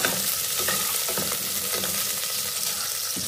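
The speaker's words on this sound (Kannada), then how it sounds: "ಈರುಳ್ಳಿ ಹಾಕ್ತಾ ಇದ್ದೀನಿ. ಇದನ್ನು ಫ್ರೈ ಮಾಡ್ಕೋಬೇಕು." Green chillies and onions frying in oil in a pan, an even close sizzle with soft stirring scrapes running through the whole stretch.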